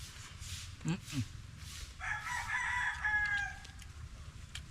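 A rooster crows once at a moderate distance, a drawn-out call rising then trailing off, amid background chatter and faint rustling.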